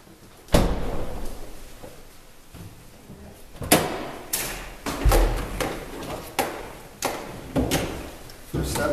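A Mazda5 car door is pulled shut, followed by a series of sharp thuds, clunks and rattles of varying loudness spread over several seconds, close by with faint background noise.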